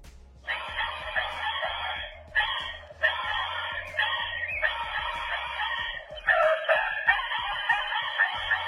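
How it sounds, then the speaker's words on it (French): A parrot squawks and chatters loudly and almost without a break, over a low rhythmic backing, as the sound to be guessed in a game. "C'était un perroquet."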